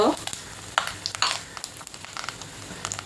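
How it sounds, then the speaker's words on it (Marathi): Mustard seeds, cumin and asafoetida sizzle in hot oil, with sharp scattered pops and crackles over a low hiss. The bursts are close and fairly loud, and the seeds spit irregularly for a few seconds. "थोडे लालसर झाले की त्यामध्ये राई टाकते, जिरं, हिंग"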